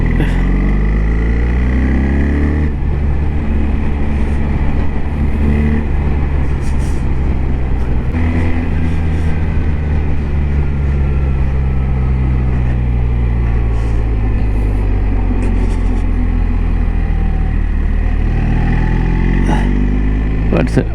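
A 2025 BMW R1300GS Adventure boxer engine drones steadily at close range, its pitch rising and falling as it accelerates through the gears, with a rider talking over it throughout.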